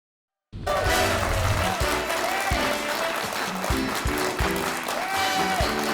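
A studio audience at a televised academic quiz show bursts into applause after a brief silence, a loud, steady wash of clapping with a few whoops, continuing to the end.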